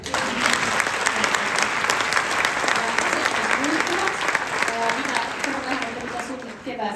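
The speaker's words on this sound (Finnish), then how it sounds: "Annetaanko aplodit tästä?" Dense, steady applause from a large crowd at an equestrian fair awards gala fills the whole stretch, loud and continuous, with a few voices calling out underneath.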